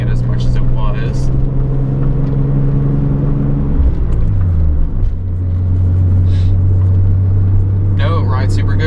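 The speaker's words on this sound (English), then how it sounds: "The car runs great now." A Nissan 300ZX drives after a misfire repair, its engine a steady low drone that shifts pitch partway through as the car slows, loud and close from inside the cabin, with talking over it.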